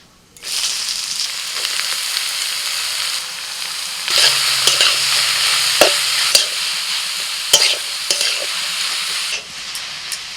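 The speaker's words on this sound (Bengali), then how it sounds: "এবার ঘিয়ের মধ্যে লাউটাকে আমি ভেজে নেব" Bottle gourd frying in ghee in a wok makes a steady, close sizzle for about ten seconds, broken by occasional sharp clicks of a spatula stirring against the pan.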